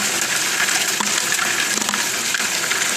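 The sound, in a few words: home-built trommel tumbling gravel with water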